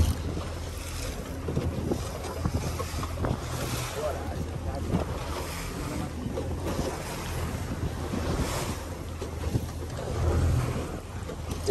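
Fishing boat underway on the open sea off Aracaju, with steady engine drone, wind buffeting the microphone and waves washing against the hull throughout.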